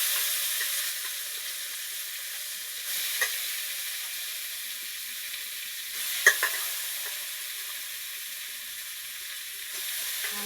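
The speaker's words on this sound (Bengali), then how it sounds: "এই মূলা শাকটা ধুয়ে নিয়ে এই যে ছেড়ে দিলাম।" Chopped radish greens sizzle steadily while frying in a pan, with a few sharp clinks and scrapes of stirring standing out over the continuous hiss.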